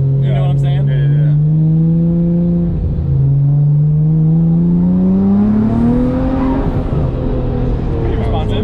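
A Nissan R34 GTR engine revs hard through a custom-welded exhaust, its loud droning note climbing in pitch, dipping briefly, then climbing again close by, with voices faintly audible.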